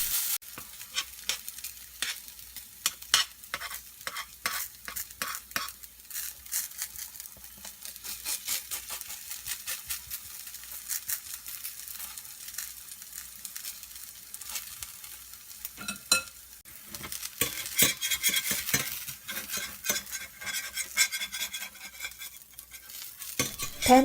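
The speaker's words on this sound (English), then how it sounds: "Put oil on the heated pan and spread the dough gently." Potato pancake batter frying in an oiled, heated pan, a steady close sizzle mixed with scraping and tapping as a utensil spreads and stirs it, continuing for the whole stretch without talk.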